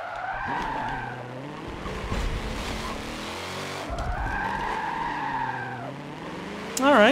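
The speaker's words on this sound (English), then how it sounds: "Alright, that's with the handbrake. Got to try out a couple slides there." Handbrake slides in the Forza Motorsport 7 racing game, with long squealing tire skids that rise and fall in two main sweeps over a steady engine drone, then a louder burst at the very end.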